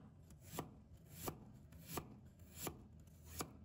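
A knife slices peeled fresh ginger on a cutting board in five evenly spaced, crisp chops, close and clear with no voices.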